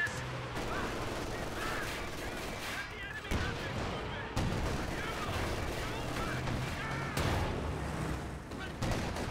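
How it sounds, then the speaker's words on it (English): An anti-tank gun fires in a 2v2 online strategy war game, with booming shots and crackling gunfire scattered through a dense, continuous battle din at moderate loudness, without voices. "An anti-tank gun."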